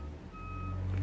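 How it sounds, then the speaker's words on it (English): A repair truck reverses outside, its backup alarm sounding a steady high tone through the brief moment, heard at a distance and indoors. "that's a repair truck out there making that beeping"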